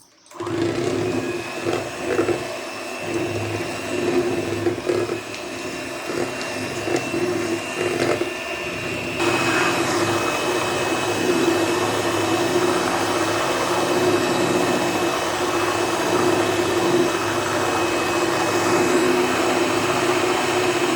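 Electric blender churning cream into butter, a loud continuous motor whine that holds steady and grows slightly fuller midway through, with no voices.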